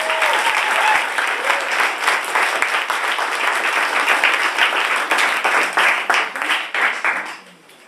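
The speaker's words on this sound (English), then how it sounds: "will you join me in a round of applause for all our teachers?" Audience at a December 2011 poetry slam in Eugene breaks into a sustained round of applause, dense clapping from a sizable crowd holding steady for several seconds before tapering off at the end.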